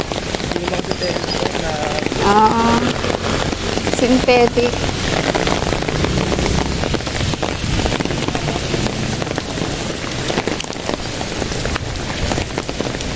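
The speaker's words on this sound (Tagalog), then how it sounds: "Naputan tayo ng malakas na ulan." Heavy tropical rain pours steadily onto a surface, a dense hiss and patter throughout, with a brief voice speaking over it.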